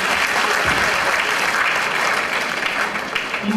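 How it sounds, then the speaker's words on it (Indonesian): A seated business audience claps steadily throughout, a dense, even wash of many hands close by with no voices rising above it. "Ya, tepuk tangan lagi."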